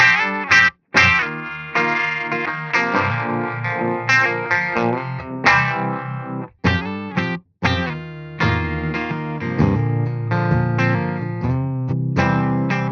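Electric guitar running through a univibe effect on an amp modeller, a warbling, pulsing tone over chords and single-note lines that continue steadily, with a few brief pauses and no talking.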